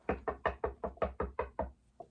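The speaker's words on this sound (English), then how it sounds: "Knocking on wood again" Knuckles rapping on wood, a close, crisp burst of about ten evenly spaced knocks in quick succession, ending with one lighter tap after a brief pause.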